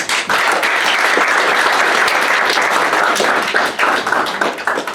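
Wedding congregation at a Franco-Congolese church ceremony bursting into sustained applause to acclaim the Lord, dense steady clapping from a large crowd that tapers slightly toward the end.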